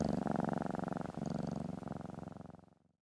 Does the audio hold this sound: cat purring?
yes